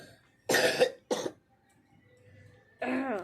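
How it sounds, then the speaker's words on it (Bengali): Two sharp, loud coughs from a nearby person in quick succession, followed by a short quiet pause and then someone starting to speak. "সকালবেলায় ঝিমাচ্ছে কারণ কাশি হচ্ছে কাশি হতে হতে দেখো"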